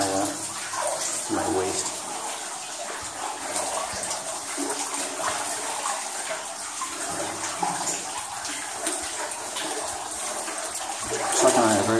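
Water seeps and splashes steadily inside an abandoned flooded mine as someone wades waist-deep, with someone talking over the continuous trickling and sloshing.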